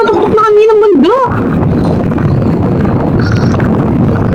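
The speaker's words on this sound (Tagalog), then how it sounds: "Medyo mahangin na siya." Low, rumbling wind buffets the microphone in a continuous roar at a cable car's mountaintop station in Ocean Park, Hong Kong, after a brief spoken phrase at the start.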